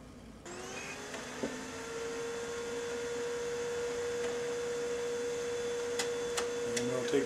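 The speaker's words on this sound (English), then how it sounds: "we're going to tell the PC to print the card" A LaserJet laser printer prints a card, a steady mechanical hum starting after a short pause and running throughout, with a few faint clicks and ticks near the end.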